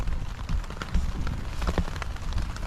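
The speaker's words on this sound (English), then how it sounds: "Listen to that rain." Steady late-fall rain patters densely on a hammock camp tarp and surrounding woods, an even close-up drumming of drops with no talking.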